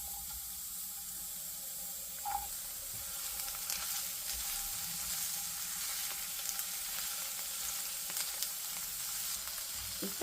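Onions and curry leaves fry in oil for a mutton bone soup, a faint, steady hiss that carries on evenly, with one brief clink near the start.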